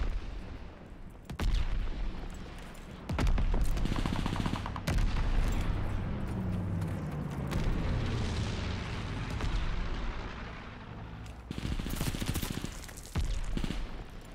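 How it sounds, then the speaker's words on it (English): Mortar barrage explosions in the Call of Duty: Vanguard video game come as repeated heavy booms and crackling blasts through a dense, sustained wash of rumbling battlefield noise, loud and continuous. "Allies calling a mortar barrage."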